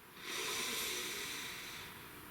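A single long, slow breath close to the microphone, soft and airy as it rises and then fades.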